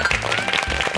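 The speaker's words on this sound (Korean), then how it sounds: "박수" A studio audience applauds, a brief burst of dense clapping lasting about a second.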